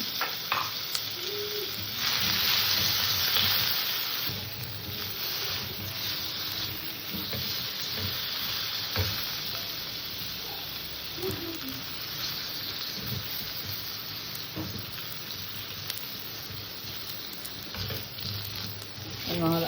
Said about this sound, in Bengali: গ্যাসটা ছোটো করে দিয়ে একটু টাইম নিয়ে আলুটাকে আমি ভালো করে ভাজবো